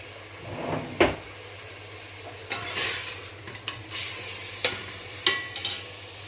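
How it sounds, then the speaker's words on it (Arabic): An onion mixture being stirred in a frying pan, with spaced scraping and knocking strokes from a utensil over a low sizzle. "واقلب الخليط ده كويس بالشكل ده."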